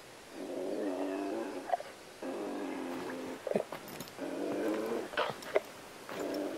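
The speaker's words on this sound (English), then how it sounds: "Is that a puma?" A puma in the hunting game Call of the Wild, The Hunter, on the Parque Fernando map, gives three drawn-out, raspy cat-like yowls. Each call lasts about a second with short gaps between, moderately near, with faint scuffs between.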